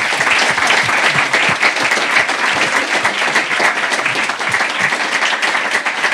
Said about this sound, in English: I'd like to say a big round of applause for all the panelists